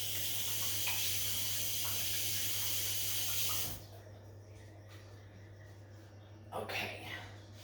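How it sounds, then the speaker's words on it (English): Tap water runs steadily as hands are rinsed at a kitchen sink, a loud hissing stream that cuts off abruptly partway through, followed by faint handling noises and a brief splash. "I'm gonna just rinse my hands off real quick."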